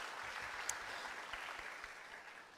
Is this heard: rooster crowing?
no